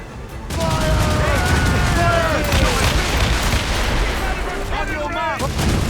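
Ship cannons boom over and over during a naval battle in Assassin's Creed Rogue, loud and continuous, with shouting crew voices and whistling projectiles mixed in throughout.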